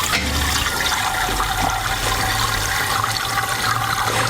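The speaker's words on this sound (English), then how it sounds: "So make sure the gate's closed before you go pouring any water in." Water runs steadily into a bucket, a continuous rushing, splashing pour at close range with no talking.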